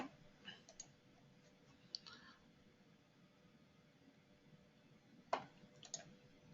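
Computer mouse clicks while working in Midas Civil structural design software, a few sharp, sparse clicks scattered across a quiet stretch, close but soft.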